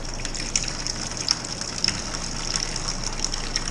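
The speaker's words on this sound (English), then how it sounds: "We're going to go ahead and get the transfer going here into the bucket." Mango beer pours steadily from a spigot into a bucket, a continuous soft gushing of liquid with faint splashes, over a low background hum.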